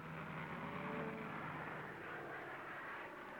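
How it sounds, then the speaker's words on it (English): A steady, droning aircraft engine hums continuously in the distance, a low broad rumble with no voices. "That airplane noise might stampede them."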